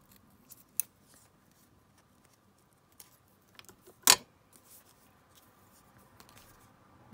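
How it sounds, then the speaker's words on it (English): Scissors snipping through double-sided washi tape in a quiet room: a few faint, scattered snips and one crisp, clear cut near the middle, with soft handling rustles between them. "with your double-sided washi tape, I'm just going to cut it here"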